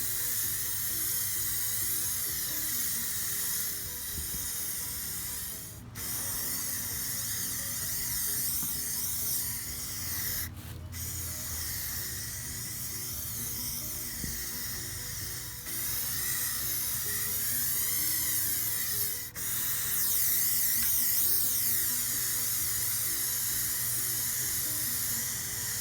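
An aerosol spray paint can hisses while coating Adirondack chairs outdoors, long sustained bursts broken by a few short gaps where the nozzle is released, fairly close and steady with no talking.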